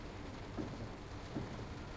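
Steady rain falling in the train simulator game Train Sim World 2 on the Dresden S-Bahn, a constant hiss with a low rumble, moderately faint and without talk.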